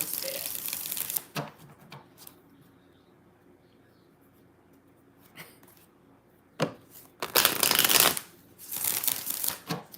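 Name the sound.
shuffling tarot cards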